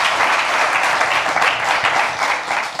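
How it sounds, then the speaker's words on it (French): A studio audience at a hi-fi and home cinema presentation breaks into sustained applause, a dense even wash of many hands clapping close and loud for the full length without pause. "De très grande qualité, qu'on applaudit."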